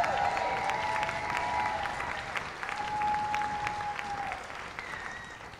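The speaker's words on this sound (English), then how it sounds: "Y'all give it up for Jennifer Pickering." An audience at a Pecha Kucha presentation night applauds steadily for an arriving speaker, dense sustained clapping from a sizeable crowd with a faint tone running beneath it.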